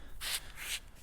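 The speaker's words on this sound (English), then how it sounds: "I sanded it all up except for the inscription here." Two short strokes of sandpaper rubbing across a rusty old axe head, a soft, close abrasive swish repeated twice.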